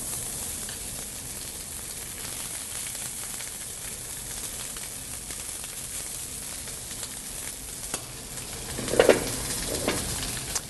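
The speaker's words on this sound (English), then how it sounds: "And I pre-cooked already a bit of white rice. I'm going to add this into here." Pre-cooked white rice hitting hot olive oil in a sauté pan, giving a steady, moderately loud sizzle that swells into a brief louder burst of frying near the end; no talking.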